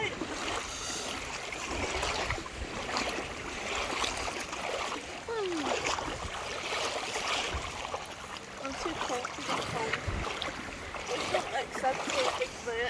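Sea water swirling and splashing around a person wading into cold water at Crigyll Beach, a continuous close wash of small waves with someone talking over it.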